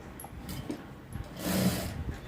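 A sewing machine runs a straight stitch along a blouse sleeve seam in short whirring bursts, close and moderately loud, with no talking over it.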